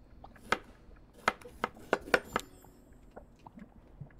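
Knife chopping food on a board in the cooking game Chef Life: A Restaurant Simulator, several sharp, close cuts in an uneven rhythm that bunch together, then a few fainter taps.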